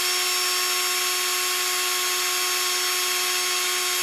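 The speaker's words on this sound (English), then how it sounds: "I know the max RPM on my little cordless drill is about 1500" A small cordless power drill whirs at a steady high speed of about 1500 RPM, a constant loud whine with no change in pitch, close by.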